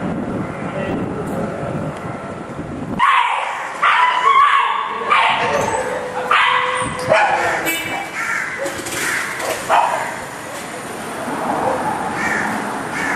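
Dogs bark in the shade at a small fishermen's market in Negombo, a few loud, repeated barks and yips rising over a busy, noisy outdoor background with crows calling.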